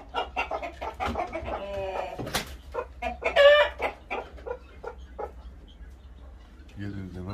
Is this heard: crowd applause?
no